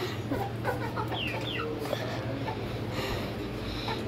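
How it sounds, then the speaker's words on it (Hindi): Hens clucking nearby, soft scattered clucks and calls over a low steady background hum, fairly quiet overall. "अभी मुर्गियाँ इधर ही खेल रही हैं"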